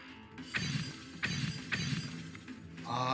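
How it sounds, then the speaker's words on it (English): A glass-shattering effect from the bomb-defusal game Keep Talking and Nobody Explodes, heard as a few sharp crashing bursts in quick succession and a bright tinkling tail at the end, with no talk. "Glass. It sounds like glass."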